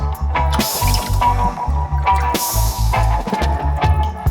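Water poured into apple cider vinegar, a close, gurgling, glugging fill with bubbly pulses over about four seconds, with music playing underneath.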